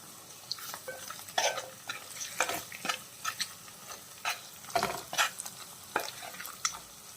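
Pieces of boiled egg being fried and gently stirred in a pan for an egg and garlic chili dish, with a steady close sizzle and repeated scraping stirs of the spoon, and no talking.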